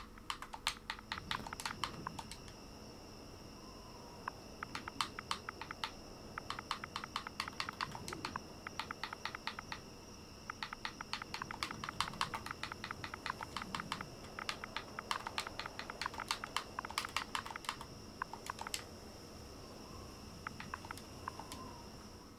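Rapid typing on a computer keyboard while entering game commands, quiet clicking keystrokes in bursts and steady runs with short pauses, alone with no talk.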